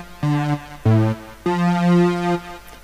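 Synth strings "0048 wah" instrument in LMMS playing three separate sustained notes without arpeggio, each a clean harmonic tone with a soft wah-like onset, the last one held longest, with no talking.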